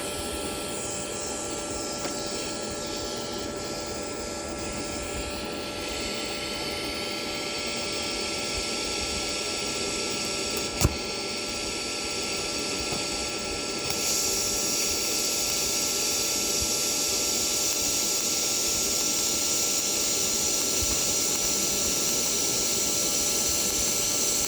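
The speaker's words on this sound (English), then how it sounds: "let's turning my amps up to 120, and let's just try another weld" A TIG welding arc at 120 amps gives a steady, continuous buzzing hiss that holds unbroken, with one sharp click partway through and a slightly louder, brighter stretch toward the end. No voices.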